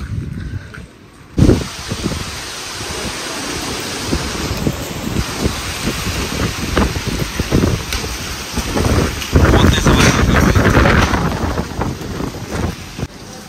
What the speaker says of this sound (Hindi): तो बाहर आ रही है बारिश